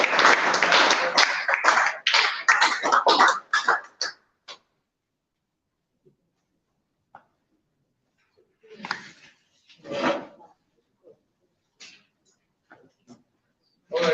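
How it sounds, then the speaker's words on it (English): An audience claps together for about four seconds, a dense burst of applause that tapers off, followed by near silence and a few scattered voices. "Thank you for the clap."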